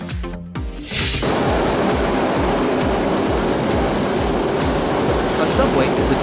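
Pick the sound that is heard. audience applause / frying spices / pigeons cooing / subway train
subway train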